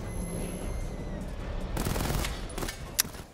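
In Batman: Arkham Knight, a missile barrage fires in a rapid cluster of sharp bursts and blasts, rising from a low rumble into a loud run of explosions followed by one crisp crack.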